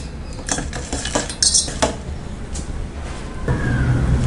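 Palm jaggery stirred in a pan to dissolve it, a metal spoon clinking and scraping against the pan in quick, loud, close strokes, then easing into a steadier low swirl near the end.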